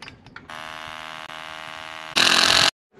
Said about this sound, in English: And I just got through with the drill